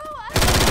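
A loud gunshot blast from a Left 4 Dead 2 firearm striking a zombie in the head, a sudden close burst cutting in after a brief tonal sound.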